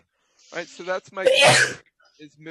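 A person sneezes loudly and close by, one sharp burst in the middle of a classroom-style explanation, with a man's speech just before and after it.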